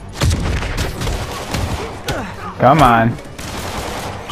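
Enemy gunfire in Spider-Man on PS4 crackles in bursts and sharp shots throughout the clip, mixed with combat sounds and character voices speaking over the action.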